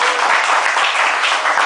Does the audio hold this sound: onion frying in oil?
no